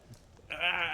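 A goat bleat during a fantasy tabletop roleplaying session about mountain goats: a loud, drawn-out, wavering bleat fills the second half after a brief quiet stretch.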